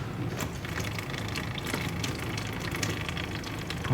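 A steady stream of water rushing through the radiator of a 1999 Mitsubishi Eclipse GS during a flush, a constant hissing gush at moderate level with no breaks.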